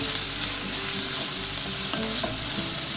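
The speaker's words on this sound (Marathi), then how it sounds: "चिरलेला लसूण 2 चमचे टाकते. आता परतूया." Chopped garlic is sautéed in a pan with onions for chicken lollipop, a dense, steady close sizzle with faint spatula stirring scrapes throughout and no speech.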